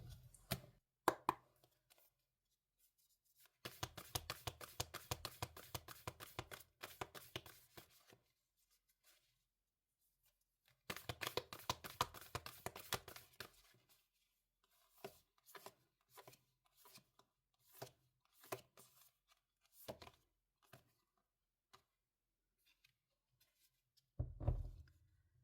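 Oracle cards being shuffled and handled, bursts of rapid riffling and sliding card sounds with scattered taps and flicks in between, quiet and close, no talk.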